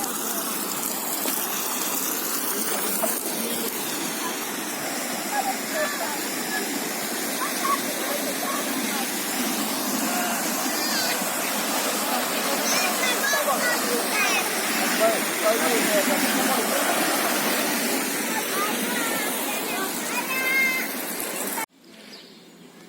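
A waterfall pours into a thermal campground pool, giving a steady, loud broadband rush of splashing water that fills nearly the whole stretch before cutting off abruptly near the end.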